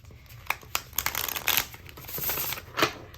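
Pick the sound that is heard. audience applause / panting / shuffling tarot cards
shuffling tarot cards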